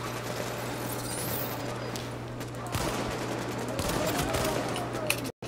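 Gunfire rattles through a firefight in the video game Tom Clancy's The Division, with scattered sharp shots over a steady game hum, ending in a brief cutout.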